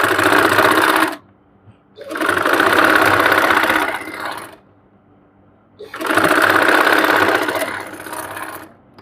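Sewing machine stitching the side pocket of a kurti: loud, close, steady motorized whirring in three long runs, separated by short quiet pauses.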